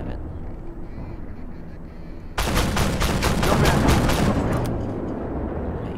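Rapid automatic cannon fire in one short burst from an armored vehicle in the tank combat game Armored Warfare, about a dozen sharp, evenly spaced reports at close range, loud over a steady engine rumble, then fading back to the idling drone.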